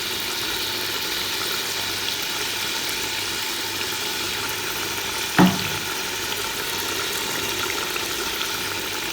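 Tomatoes and green chillies hitting hot oil for Karachi-style beef chana dal, a steady broadband sizzle and crackle with one sharp clatter partway through, close and continuous with no talking.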